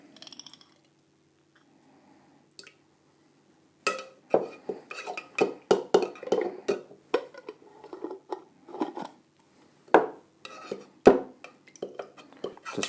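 Jam is mashed and stirred inside a metal cocktail shaker for a gin and tonic, giving a run of close, irregular metallic clinks, scrapes and taps after a quiet start.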